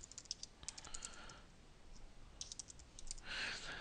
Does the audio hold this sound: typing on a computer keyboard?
yes